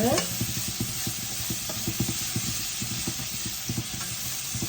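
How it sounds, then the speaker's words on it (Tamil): Tomato, fenugreek and onion sautéing in a pan for a crab masala roast, a soft steady sizzle under a quick, regular run of low scraping stirs. "இப்போ தக்காளி வெந்தயம் வெங்காயம் எல்லாம் வதங்கிட்டு"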